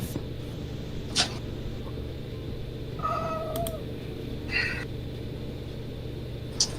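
A cat meows several times in a video game, with short separate calls standing out over a steady background hum.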